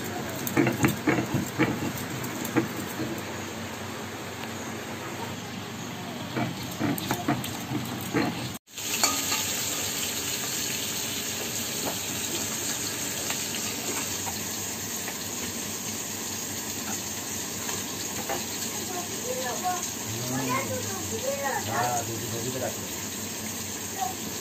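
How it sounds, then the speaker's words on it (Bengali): Malabar spinach cooking in a pan in a home kitchen, a steady sizzle and stirring hiss running throughout, with a brief dropout midway and faint talk in the background. "এটা পুঁই শাকটা রান্না হচ্ছে, মাই করছে সব।"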